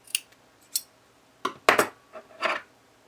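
Scissors cutting fabric for a cockatiel plushie: a handful of short, crisp snips and clicks in uneven bursts, close and clear with quiet pauses between, no talking.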